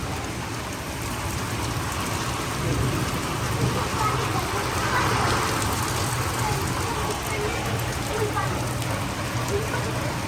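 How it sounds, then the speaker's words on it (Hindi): Heavy rain pours down in Dehradun, a steady, dense, close hiss of drops pattering on surfaces that keeps up without a break from start to finish. "तो भाई बारिश आ गई है"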